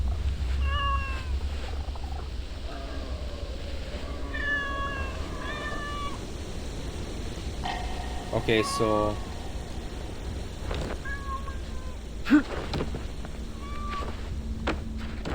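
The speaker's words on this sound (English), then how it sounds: "Okay, here's the cat. Let's pet the cat." A cat in the video game Assassin's Creed Shadows meows repeatedly in short, high calls over a low ambient hum, with a person talking briefly.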